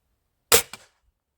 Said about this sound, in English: you can actually feel the recoil when this rifle shoots